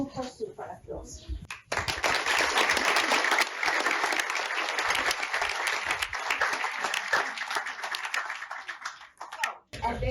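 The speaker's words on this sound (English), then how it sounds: "you can tell him that we gave him a super applause." Audience applause, a long, dense burst of clapping that swells after a short pause and holds steady before trailing off, with faint talk at either end.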